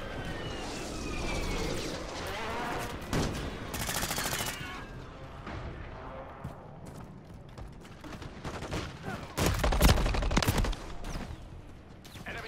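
Gunfire in the Modern Warfare III video game comes as rapid automatic bursts and sharp shots over a rumbling battlefield bed, rising into a loud cluster of blasts near the end.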